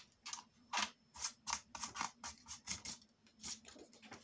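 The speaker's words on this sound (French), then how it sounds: "Donc, je coupe un morceau" Scissors cutting a piece of black paper for a paper folio, a quick series of about a dozen soft, close snips in an irregular rhythm against a faint background hum.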